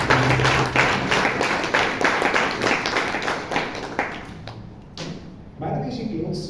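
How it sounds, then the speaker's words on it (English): A short burst of clapping from a small crowd at a Toastmasters meeting rises and thins out over a few seconds, with a voice speaking as it tapers off. "can we have a quick round of applause for the evaluator"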